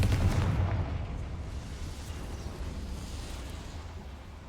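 A Confringo fire spell blasts in the Hogwarts Legacy video game, a booming burst at the start that decays into a low, rumbling tail.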